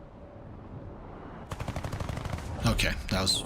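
Rapid automatic gunfire from top-tier US ground vehicles in War Thunder breaks out after a quiet rumble, a fast close burst followed by heavier blasts and echoing impacts.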